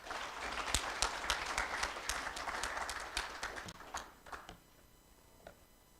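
Guests at a formal development partners' roundtable give a round of applause: dense clapping that is moderately distant, then thins to a few scattered claps and dies away.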